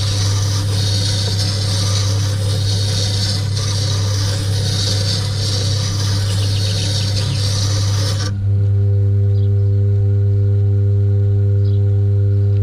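A wood turning skew chisel is ground from a straight to a small round profile, giving a continuous loud rasping grind over a steady motor hum, then the grinding stops and the motor drones on alone.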